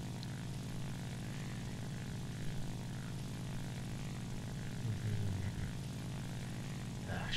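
A Focke-Wulf Fw 190 A-4 fighter's piston engine drones steadily in the War Thunder game, a continuous, fairly quiet propeller hum with slight swells partway through.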